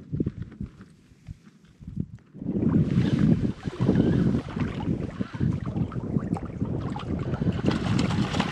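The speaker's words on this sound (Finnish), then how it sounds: "Joo, aika kova puhuri käynyt." Strong wind gusts buffet the microphone in the Vätsäri wilderness of Finnish Lapland, starting quiet and then rising into a loud, sustained roar with rumbling low-end bursts, heard alone without talk.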